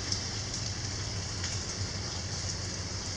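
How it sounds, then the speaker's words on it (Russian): Steady heavy summer downpour patters continuously on a surface, an even hiss with occasional soft drips, and no voices. "вот так мы снимаем дождь."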